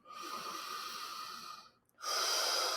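Slow, steady breath drawn during a guided face and eye stretching exercise: a long, soft airy stream, a brief pause near the end, then another breath, close and even.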